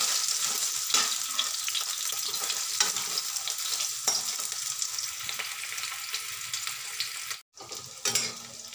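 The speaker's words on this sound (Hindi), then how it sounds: "न्यूट्रीला चंक्स इसमें डाल के और गोल्डन होने तक इसको अच्छे से फ्राई करेंगे" Nutrela soya chunks fry in hot oil, a loud, steady close-up sizzle with a few spatula scrapes and knocks, a brief break near the end, and no one talking.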